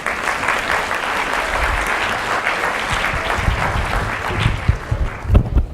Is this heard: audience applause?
yes